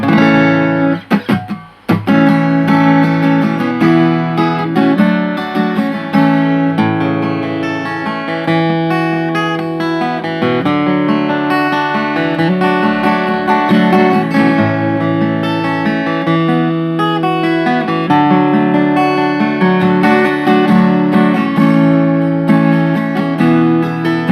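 A strummed Morris S 30 satin-finish acoustic-electric guitar, capoed, plays steady chords with a bright, ringing tone, continuous and close, with no voices.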